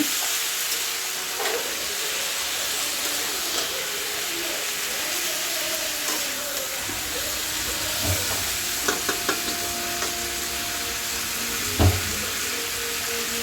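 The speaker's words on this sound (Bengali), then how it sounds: "মশলার সাথে ভালো করে ভেজে নেব।" Vegetables frying with spices for boal fish curry produce a steady close sizzle, joined partway through by spatula scrapes and knocks against the pan, one louder clack near the end, no voices.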